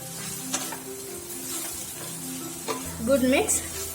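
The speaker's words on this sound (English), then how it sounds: "Switch off the flame and just give it a good mix." Vegetable stuffing for a veg Mughlai paratha is stirred in a hot pan just off the flame, with a steady close sizzle and repeated scraping strokes of the spoon, a louder burst of stirring near the end.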